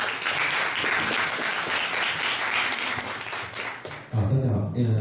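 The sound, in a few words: applause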